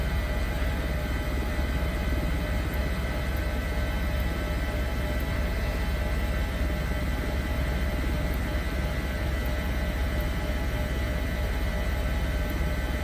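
Twin turbine engines of an HPG H145 helicopter idle in Microsoft Flight Simulator 2024, producing a steady, unbroken whine and rumble with a broadband hiss, holding constant loudness throughout.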